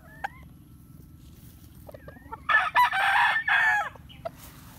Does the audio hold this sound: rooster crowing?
yes